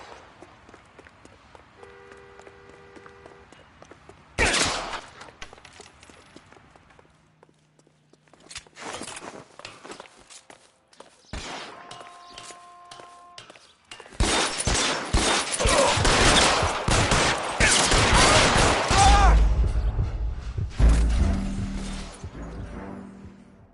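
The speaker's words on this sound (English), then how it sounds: "All units, shots fired." Shootout in the L.A. Noire crime video game: a sharp shot, then scattered cracks and footsteps, building into a long loud barrage of rapid gunfire with a deep rumble near the end.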